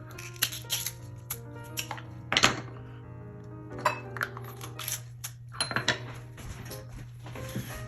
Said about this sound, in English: I'm gonna go ahead and mince the garlic here.